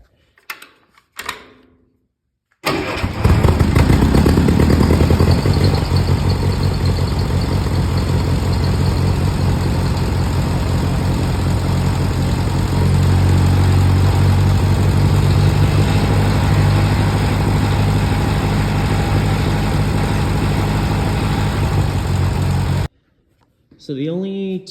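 A 1952 Ferguson TO30 tractor with a front loader idles steadily for about twenty seconds, its engine a loud, even, low rumble with a rapid ticking pulse, starting abruptly after a few faint knocks and cutting off just as sharply.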